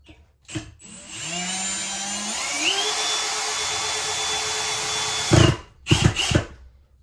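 A power drill drives a screw into wood while a gravity chicken waterer is mounted, one sustained whine that rises in pitch as it spins up, runs steadily, then stops, followed by short knocks and clatter.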